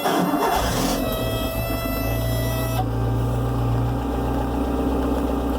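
A lifted Suzuki Samurai on 35-inch tires and Toyota axles idles after being switched back on, a loud steady low engine drone with a constant hum and a high electrical whine that shifts partway through.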